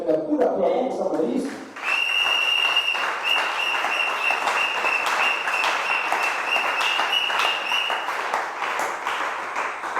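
A church congregation applauding for Jesus, dense sustained clapping that rises after a brief spoken opening and carries on for several seconds, with a steady tone ringing beneath it.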